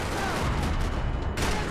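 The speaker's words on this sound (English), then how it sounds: "Another parking lot rattling with gunfire." Dense gunfire from Max Payne 3 crackles through a parking lot, a sustained, loud barrage of rapid shots and booms with a brief lull near the end before the firing resumes.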